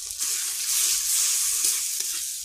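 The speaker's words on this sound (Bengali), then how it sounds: "টমেটোটা গলে গেছে, ফুলকপি আর আলুটা দিয়ে দিলাম, ওটা বেশ একটু কষাবো।" Cauliflower and potato sauté in a pan with mustard paste, turmeric and green chilli, giving a loud, steady close sizzle and hiss with faint stirring, and no talk.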